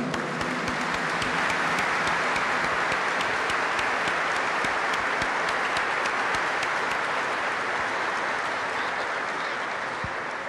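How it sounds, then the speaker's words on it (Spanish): A congregation claps for nurses during Mass at the Basilica of Itatí, sustained loud applause filling the church with dense, even clapping throughout. "Y un fuerte aplauso a la enfermera, ¿eh? los enfermeros."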